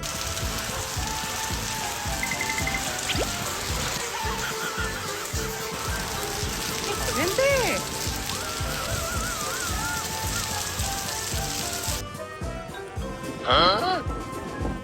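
Steady rain pours down in a continuous wash, with a dog outdoors and brief bird-like chirps and a bleat-like call rising over the downpour near the end.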